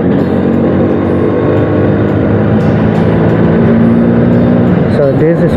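Steady buzzing two-stroke engine of a 1994 Bajaj Super 150 scooter heard close while riding, a continuous loud drone with slight pitch shifts near the end, alone without talk.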